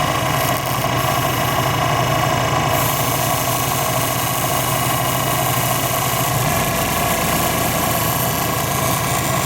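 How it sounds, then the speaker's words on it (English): Small electric motor running at low speed under dimmer control, a steady buzzing hum with rough vibration and a slight change in pitch partway, close and continuous with no talk. "the dimmer isn't very good at controlling the speed of that motor at the lower power outputs"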